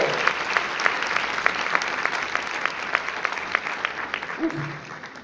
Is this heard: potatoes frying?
no